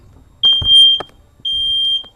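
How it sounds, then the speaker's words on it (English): A home smoke detector going off with two loud, shrill high-pitched beeps, each lasting about half a second, close by in a quiet room. "Hear my smoke detector going off?"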